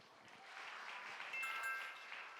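A school hall audience gives a steady, fairly quiet round of applause to welcome a high school team at a regional mock trial competition, a continuous wash of clapping with no voices.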